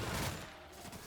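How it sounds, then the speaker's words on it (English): Dense, continuous gunfire in The Outer Worlds, a steady wash of overlapping shots at moderate distance with no clear individual bangs and no speech. "Lots of shooting."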